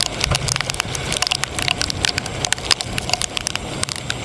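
Steady rain falling, a dense patter of drops striking a hard surface, with no voices.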